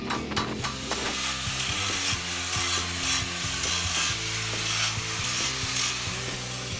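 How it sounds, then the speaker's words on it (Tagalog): Welding slag chipped off a welded metal bike repair stand, giving a dense run of close, rapid metallic taps and scraping strokes in an uneven rhythm, loud and alone without talk. "Tiktikin natin mabuti para mawala ang tay-tay na welding."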